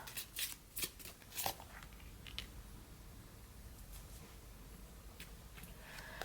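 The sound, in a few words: shuffling tarot cards for a card pick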